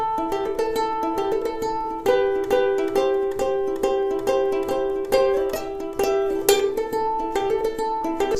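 Fingerpicked ukulele playing the bridge of a song, with steady plucked notes and chord changes in a repeating pattern, close and clear, with no voices.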